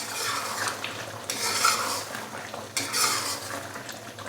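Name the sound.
stirring chicken white karahi with ginger and green chillies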